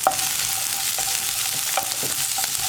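Ginger and green chilies fry steadily in hot oil, a continuous close sizzle broken by a few sharp stirring scrapes and clinks, with no voices.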